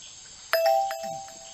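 A bright two-tone ding-dong doorbell chime from the Detective Grimoire video game rings once, clean and close, with a short electronic tail and no voices over it.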